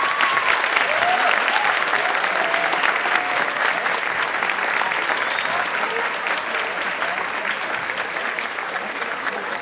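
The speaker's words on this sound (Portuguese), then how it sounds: "Uma salva de palmas." An audience at an international book fair event applauds loudly, a dense, sustained wash of clapping that stays strong for nearly ten seconds and thins only slightly toward the end.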